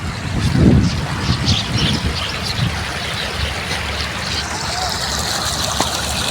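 Dirty waste water flowing into the Ravi river, a continuous rushing, trickling wash of water close by, steady and fairly loud, with a faint low thump near the start.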